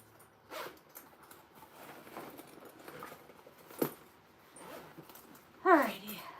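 A quick zipper pull on a sewn handbag's zipper pocket rasps sharply near the end, after quiet handling rustles and a soft click earlier.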